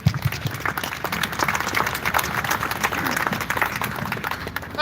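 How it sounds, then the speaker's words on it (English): Crowd at an outdoor rally clapping and cheering steadily for a speaker, dense applause filling the whole stretch at moderate loudness. "Let's give him a warm round of applause."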